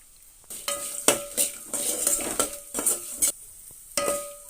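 Spoon scrapes and clinks in a pan as a spicy poha (atukula) mixture is stirred and fried, with soft sizzling under irregular bursts of stirring and short quiet gaps.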